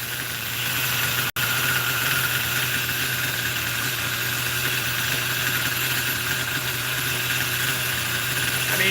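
A Force .25 CNC model glow engine runs steadily through a break-in, a loud continuous buzzing drone with a fixed pitch and one brief dropout early on, no talking.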